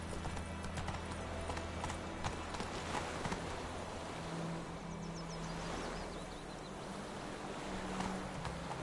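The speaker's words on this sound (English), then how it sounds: "Run, Roach." In The Witcher 3, the horse Roach gallops with a continuous rapid clatter of hooves, quiet and blended into a constant outdoor ambience in the game.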